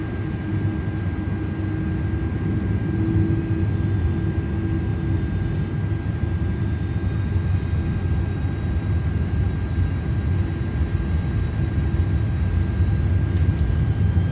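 Airbus A330-300 jet engines at takeoff thrust in a flight simulator on the runway, a steady loud low roar with a constant whine, continuous and unchanging throughout.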